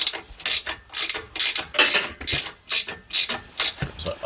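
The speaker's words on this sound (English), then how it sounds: "I'm just tempted to put the trolley jack under the chassis and put an axle stand" A trolley jack ratchets upward under a Suzuki Jimny chassis during a suspension job, its pawl clicking in steady repeated strokes about every half second, close and crisp with no voices.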